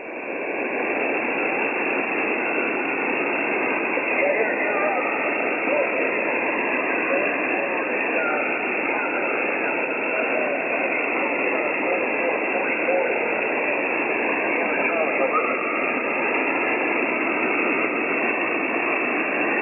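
Continuous hissing radio static on a ham radio transceiver fills the clip, with a faint, barely-there voice signal drifting in and out beneath the noise.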